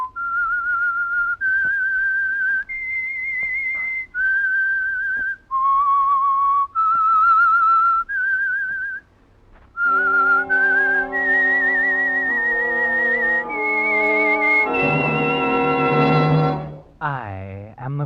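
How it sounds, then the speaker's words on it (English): Signature theme whistling for an old-time radio mystery drama, a lone eerie melody of long held notes, loud and close, that gives way to a swelling orchestral chord at the end. "That whistle is your signal for the Signal Oil Program"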